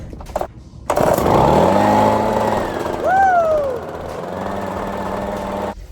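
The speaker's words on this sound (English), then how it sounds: "So that's why I had to get the gas jackhammer." A gas-powered jackhammer engine runs loudly and steadily, with a brief rising whine partway through over a constant mechanical drone.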